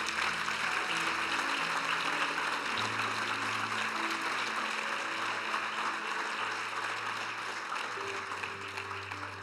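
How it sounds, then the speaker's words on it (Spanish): Applause from a church congregation, a steady even wash of many hands clapping that carries on for several seconds while a low sustained tone hums underneath and fades slightly toward the end. "Dale un aplauso a mi Dios"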